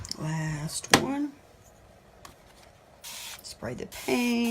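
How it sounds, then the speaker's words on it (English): Spray bottle misting paint onto the side of a canvas, with a couple of short, close hissing bursts between stretches of a person talking. "Spray the paint, mist the side."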